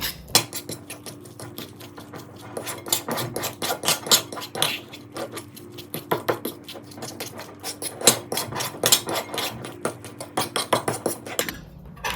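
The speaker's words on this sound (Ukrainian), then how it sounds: "Поки що перемішаю." Rapid clinking and scraping of a spoon against a bowl while stirring an almond flour mixture for syrniki, a quick irregular rhythm of small taps, close and fairly loud, with no talking.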